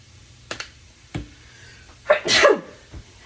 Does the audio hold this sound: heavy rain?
no